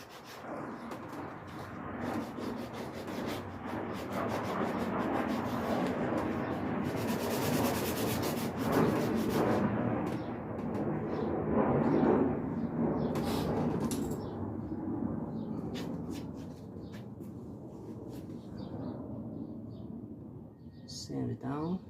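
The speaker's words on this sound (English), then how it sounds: "Sand it down, sand it down." Wood is sanded by hand with a steady, rough rubbing scrape that keeps going for about twenty seconds. It is close and fairly loud, with birds cooing faintly in the background.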